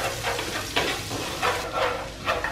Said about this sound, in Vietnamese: Và dầu ăn nó đã sôi lên lại rồi thì mình sẽ cho cái phần hành tím mình băm nhỏ vô này để mình chiên cho nó thơm nhé.